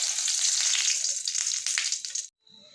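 Loud, steady sizzle of a bay leaf frying in hot oil in a wok, cut off abruptly near the end, leaving a faint quieter sound.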